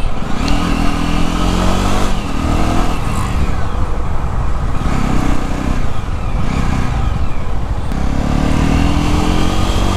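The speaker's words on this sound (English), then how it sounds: "let me check the acceleration in this bike" A BS6 Jawa motorcycle accelerates hard through its gears, loud and close, with repeated rising engine pulls broken by short dips at each shift, continuous and rough throughout.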